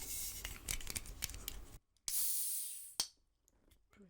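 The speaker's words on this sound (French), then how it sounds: "Nous allons ouvrir cette petite canette." A small can of cola is cracked open with a quick snap followed by a bright fizzing hiss that fades, set among close rustling handling noises in a quiet room.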